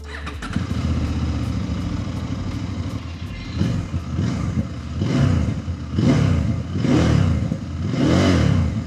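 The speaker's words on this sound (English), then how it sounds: "I also noticed the engine and exhaust note sounds different from the 800MT, with a much more pleasant deeper tone" A CFMOTO Ibex 950 adventure motorcycle engine with stock exhaust gives a deep exhaust note, idling near the start and then revving in several rising and falling surges, loud and close.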